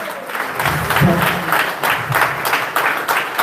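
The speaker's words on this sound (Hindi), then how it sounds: "जोरदार तालियों के साथ" Loud, dense applause from a crowd at a launch event in Lucknow, continuous rapid clapping filling the room with a faint voice underneath, sustained throughout.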